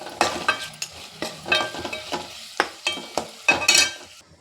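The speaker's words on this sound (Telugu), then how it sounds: "2 స్పూన్స్ కారం, అలాగే ధనియాల పొడి వేసేసుకొని బాగా కలుపుకోవాలి." Chili powder and coriander powder are stirred into ginger paste frying in a pan, with a series of close, rhythmic scraping strokes over a soft sizzle and no talking.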